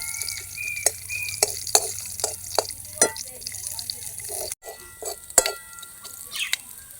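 Panch phoron spices and a bay leaf fry in hot oil in a pan, with a soft steady sizzle broken by sharp, repeated clicks and taps of stirring close by.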